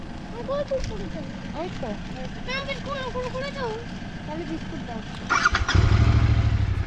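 A motorcycle engine idles and then revs up loudly near the end on a road trip outside Kolkata, its rumbling growl rising close by while birds chirp and voices talk faintly in the background earlier.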